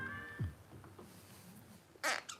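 A cat gives a couple of short meows close by, with a brief louder burst of noise near the end and no talk.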